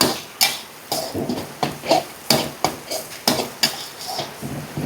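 Pounded chili and garlic stir-fried in a pan for a dry-fried minced pork dish, with rhythmic metallic clanks and scrapes of a spatula on the pan repeating about twice a second over a faint sizzle, close and loud.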